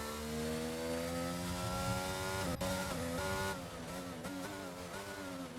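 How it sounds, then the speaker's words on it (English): Safety car in a racing video game circling the track ahead of the grid, a steady droning engine note with layered harmonics, briefly interrupted by a sharp click, then continuing at a slightly lower, even level. "the safety car is taking the grid round once more"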